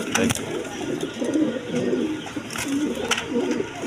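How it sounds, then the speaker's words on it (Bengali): Imported long-necked pigeons coo in repeated low, throaty rolls at close range, with a faint voice now and then in the background. "ইম্পোর্টের কবুতর কিন্তু একদম জিরাফ গলার"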